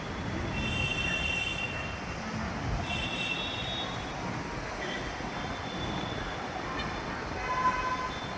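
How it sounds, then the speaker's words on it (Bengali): A metro train enters a station platform, giving a heavy, sustained rumble with brief high-pitched squeals of wheels on rails over the roar. "ওই যে ট্রেনটা ঢুকছে।"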